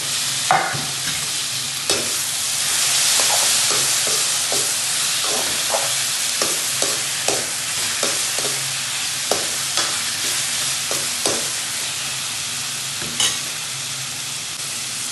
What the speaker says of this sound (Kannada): ಈಗ ಟೊಮೊಟೊ ಹಾಕ್ತಿದ್ದೇನೆ ಟೊಮೊಟೊ ಹಾಕಿ ಸ್ವಲ್ಪ ಮಿಕ್ಸ್ ಮಾಡಬೇಕು